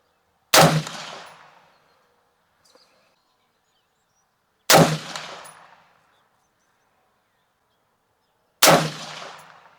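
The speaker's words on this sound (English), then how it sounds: "let's shoot a group at the bottom right target" Three loud, close rifle shots fired at a target, evenly spaced about four seconds apart, each a sharp crack trailing off into a short echo, with near silence between shots.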